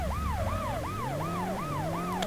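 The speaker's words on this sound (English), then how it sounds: "Actually, I'll keep the siren on." Wailing police siren from the PS1 game World's Scariest Police Chases, sweeping up and down in a steady repeating rise-and-fall cycle, loud and close over a low engine drone.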